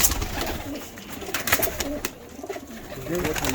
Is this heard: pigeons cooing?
yes